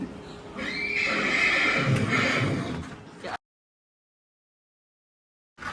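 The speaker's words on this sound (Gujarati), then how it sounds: "જે હે ને આ ઘોડું છે બોલ" A horse neighs loudly and nearby in a village setting, one long whinny lasting a few seconds, then silence with a brief sound returning at the very end.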